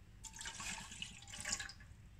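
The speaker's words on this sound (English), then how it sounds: "So now we have to add 1 cup of water." A cup of water is poured into boiling milk for tea, giving a steady splashing, gurgling pour close by that rises and falls over about two seconds.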